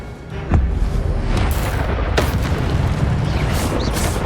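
An Incendio fire spell blast in Hogwarts Legacy, a heavy booming burst with crackling, roaring fire and several sharp magical impacts over a continuous loud rumble.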